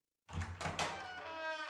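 A door swings open as someone barges in unannounced, a short radio-drama sound effect: a soft thunk followed by a brief creaking sweep, close and clear, with no talk over it.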